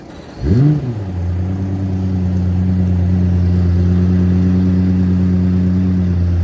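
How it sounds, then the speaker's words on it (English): Red Lexus LFA starting up during Monterey Car Week, a quick sharp rev flare right after ignition that settles into a loud, steady, rumbling idle close by for several seconds. "We found a random LFA just in time for a startup"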